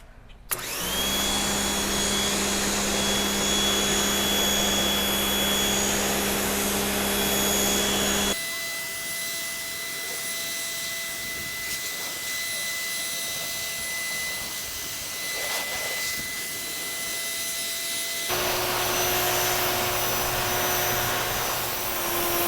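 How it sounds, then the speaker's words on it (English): A pressure washer rinses the exterior of a Thor Sanctuary B-class RV built on a Mercedes Sprinter van, giving a loud, steady, close motor whine with a hissing spray that shifts in tone as the nozzle moves, with no talk. "I am going to grab my pressure washer and rinse it all off."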